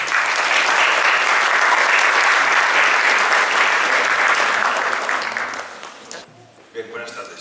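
Strong audience applause at a Lima city forum welcoming the transport infrastructure director, steady dense clapping for about six seconds, then dying away as a voice begins.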